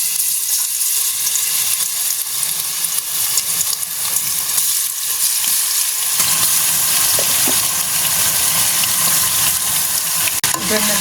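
Chicken pieces for gongura chicken pickle hit hot oil in a pan, and a loud, continuous frying sizzle intensifies sharply midway and keeps crackling steadily to the end.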